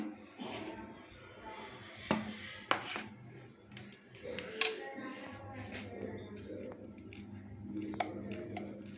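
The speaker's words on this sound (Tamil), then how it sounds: "இப்போ நம்ம பழத்தை வந்து மிக்ஸி ஜாரில் பொடி பொடியாக கட் பண்ணிக்கலாம்." Soft knife strokes against a board cutting banana into small pieces, a few sharper taps spaced out, while a person talks quietly throughout.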